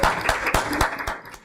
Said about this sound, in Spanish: Lo recibimos con un fuerte aplauso al grupo